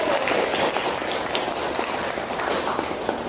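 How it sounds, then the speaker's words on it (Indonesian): A classroom group applauds for a student team, dense steady clapping from many hands filling the room evenly for several seconds, with faint voices mixed in. "beri tepuk tangan untuk kelompok 1"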